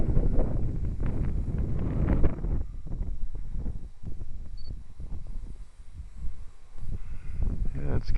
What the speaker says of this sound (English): it's getting into some wind now